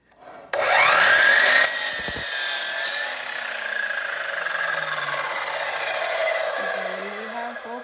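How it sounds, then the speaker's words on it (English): A saw cuts through a 2x4 wood board: a loud, close rasping cut starts abruptly, then settles into a steadier, quieter grinding that runs on for several seconds. "Just gonna line up my saw to the bottom mark I made."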